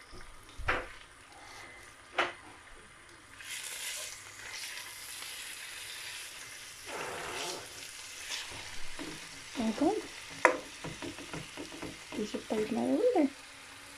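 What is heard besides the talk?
minced meat kofta and garlic frying in oil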